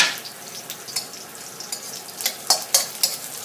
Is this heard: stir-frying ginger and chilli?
yes